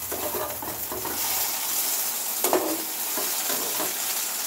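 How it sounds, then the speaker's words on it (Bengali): Potato curry with tomato and green chili stirred in a frying pan, a steady close sizzle running throughout with occasional scraping knocks of the spoon against the pan. "আমি একটু তরকারিটা নেড়ে আসি"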